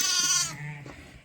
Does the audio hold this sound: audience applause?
no